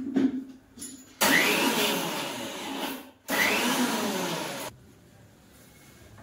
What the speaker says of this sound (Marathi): आपण हे आता वाटून घेऊया